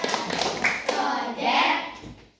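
A primary school class doing a patterned clap chant in a lesson, bursts of hand claps in rhythm mixed with children's and a teacher's voices calling along.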